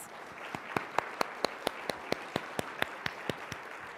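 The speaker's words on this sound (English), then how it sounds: "Let's give them all a round of applause." Sparse, evenly spaced claps ring out at a steady rhythm, like a small audience applauding at moderate volume after a panel conversation.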